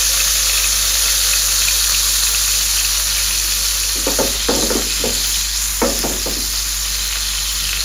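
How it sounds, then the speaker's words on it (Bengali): Silond catfish pieces frying in hot soybean oil, a loud continuous sizzle close up, with a few scraping clatters as pieces are added or moved. "তেলটা গরম হয়ে গেছে মাছগুলো একে একে দিয়ে দেবেন"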